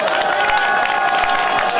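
A press-conference audience applauds in a dense, steady wash of clapping and crowd noise, loud and continuous throughout.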